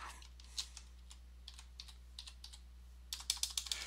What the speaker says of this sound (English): I cannot type this morning.